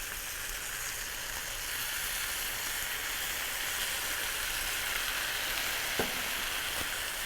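A stir-fry sizzles steadily in the pan just after stir-fry sauce goes in, a constant close hiss with a couple of brief clinks near the end, and no talking.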